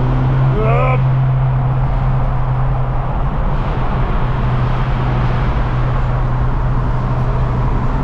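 A tuned 2015 BMW 428xi Gran Coupe M Sport with 297 hp, its engine giving a loud, steady low rumble throughout, with a brief voice near the start.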